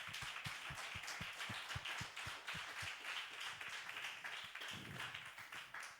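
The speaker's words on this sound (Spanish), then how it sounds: "Yo pido un fuerte aplauso para la gloria de Dios." A church congregation claps in a fairly sparse, uneven rhythm, with sharp individual claps standing out from a softer spread of applause at moderate distance, running steadily for several seconds.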